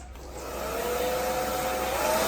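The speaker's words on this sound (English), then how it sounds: "I'm gonna use my dryer." A hair dryer blows steadily on a wig, its whirring hum rising slightly in pitch and loudness as it runs.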